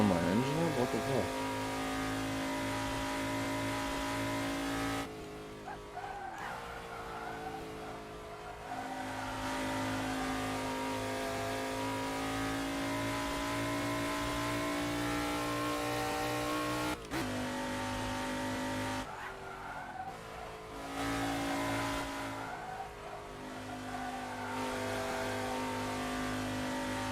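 A race car engine in Assetto Corsa at Pocono holds a steady, loud high-pitched drone, broken by abrupt drops and gear-change dips as it revs back up, with no talking over it.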